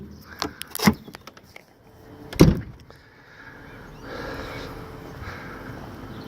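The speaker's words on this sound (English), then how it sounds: "There's a fly screen on the back door. Oops, which you've got to pull back in order just to lock the door properly." A motorhome back door with a fly screen, an Autocruise Vista: two sharp clunks as the screen is pulled back and the door locks, followed by quieter shuffling and a low steady hum.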